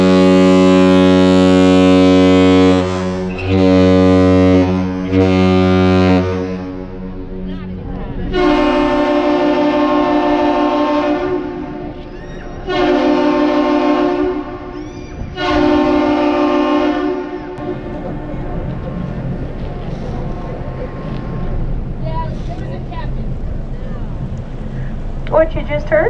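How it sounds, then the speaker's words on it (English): The laker Mesabi Miner sounds its deep ship horn in the long-short-short Captain's Salute while departing Duluth loaded with iron ore, and the aerial lift bridge answers with its own horn blasts; loud and resonant, with some talking in the background. "What you just heard is known as the Captain's Salute."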